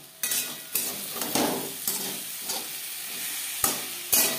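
Yellow pumpkin and eggplant cook in a pan for a vegetarian spinach ghonto. Close, steady sizzling is broken by repeated sharp scrapes and taps of a spatula stirring against the metal pan.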